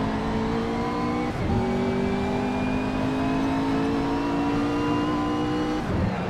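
A racing car in Assetto Corsa revs loudly and steadily, its engine note climbing in smooth harmonic sweeps with brief dips around gear changes, close and constant throughout with no talking.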